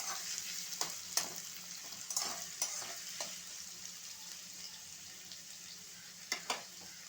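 Onions frying in a pan for a methi chicken dish, a quiet steady sizzle with intermittent scraping stirs and clinks of a utensil against the pan, no talking.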